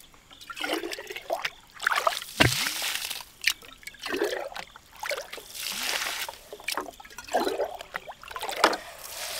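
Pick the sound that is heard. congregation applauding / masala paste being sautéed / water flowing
water flowing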